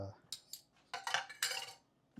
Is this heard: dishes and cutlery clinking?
yes